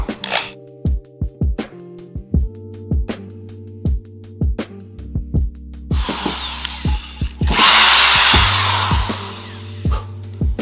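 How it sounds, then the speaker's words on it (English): Short bursts of a power drill whirring on and off repeatedly while drilling a small hole, with a longer sustained grinding stretch in the middle, close up. "I'm gonna start with a small drill and then step it up."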